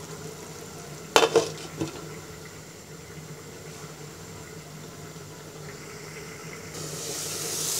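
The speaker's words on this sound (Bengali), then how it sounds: "আমাদের মশলাটা কষানো হয়ে গেছে" A spice paste with turmeric and chili powder cooks down with water in a pan. A few sharp spatula clinks and scrapes come early, then a steady soft sizzle that swells slightly toward the end.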